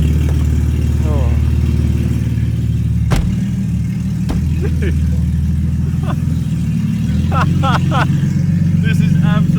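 A car with a naturally aspirated Barra engine and a straight-piped exhaust snapped off at the headers idles and revs with a loud, raw, throbbing drone under people talking nearby.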